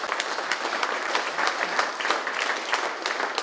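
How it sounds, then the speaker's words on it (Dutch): Dense, steady applause from an audience at an e-commerce event greeting Mark Le Bouille, director of Replace Direct, with many hands clapping at once at an even, moderately loud level throughout. "Mag ik een enorm applaus voor Mark Le Bouille"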